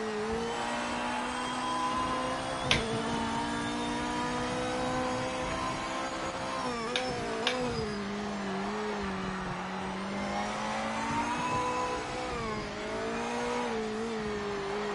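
A race car engine drones and revs at Sebring in a racing video game, with a continuous loud whine whose pitch rises and falls through gear changes and braking. A few sharp clicks stand out, and no one talks.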